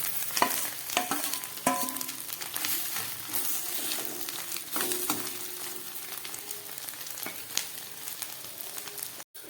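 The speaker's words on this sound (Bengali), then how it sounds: "ডিমটা হাফের বেশি ভাজা হয়ে গেছে এবার আমি দিয়ে দিচ্ছি এই ভেজে রাখা আলু আর ক্যাপসিকামটা" Egg with pre-fried potato and capsicum sizzles steadily in a frying pan, with close clatters and scrapes of stirring throughout and no voices.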